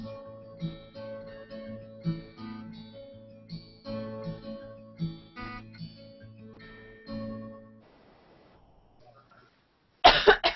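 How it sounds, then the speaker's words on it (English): A song plays for several seconds, then fades into quiet before a sudden burst of harsh, close coughing at the very end. "Sorry, I had to cough through that entire song"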